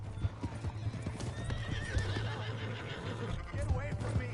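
Hooves of a galloping horse clip-clop steadily in Red Dead Redemption 2, with a whinny and shouted voices over the running beat.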